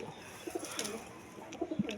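Pigeons coo in soft, low repeated phrases at close range, including one pigeon with a twisted-neck ailment, with faint chirps in the background.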